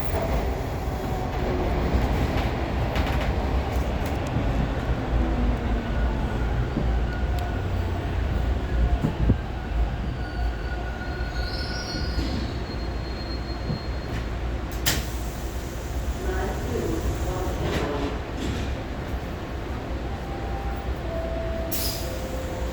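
Toronto subway train arriving at Dufferin Station, a loud continuous rumble and rattle of the railcar heard from inside, with brief squeals and clunks along the way and no talk.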